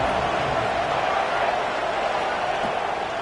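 Stadium crowd at a college football game, a loud, sustained wash of cheering and roaring voices filling the space evenly, broad and continuous with no distinct individual sounds.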